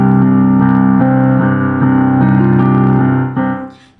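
Piano plays the opening of a title theme with both hands, a steady run of repeated notes over sustained low chords, loud and close, ending with a fading final tone.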